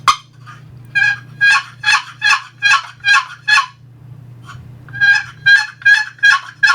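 A wooden turkey box call played by a hunter to imitate a gobbler yelping in fall: two close, loud series of raspy, evenly spaced yelps, six or seven notes each, separated by a short pause, over a low steady hum.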